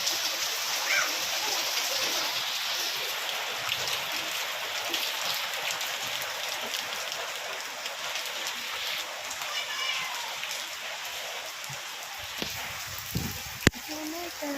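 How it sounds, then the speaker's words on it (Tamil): Steady outdoor rain on a rainy day falls in a dense, even hiss that stays broad and continuous throughout, with a few brief knocks near the end and no clear talk over it. "நம்ம போய் மழையை ரசிக்கலாமா?"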